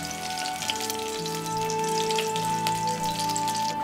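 Pork chops fry slowly over low heat in a pan for a home-style scallion braised chop, giving a constant, even sizzle with fine crackling, alongside a faint steady hum.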